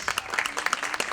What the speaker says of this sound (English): Big round of applause for all the participants.